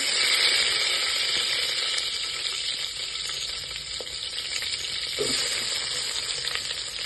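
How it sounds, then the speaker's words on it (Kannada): Mustard seeds and curry leaves crackle and sizzle in hot oil in a pot, a steady close hiss with scattered pops and spatters throughout and no voices. "ಈಗ ಎಣ್ಣೆ ಕಾದಿದೆ, ಸಾಸಿವೆ ಹಾಕ್ಕೊಳ್ಳಿ, ಕರಿಬೇವು,"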